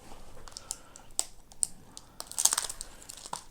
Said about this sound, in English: Let's cut this open real fast.